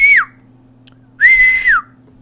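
A person whistles two clear notes, each rising briefly and then gliding downward, with a short pause between them and a faint steady hum underneath.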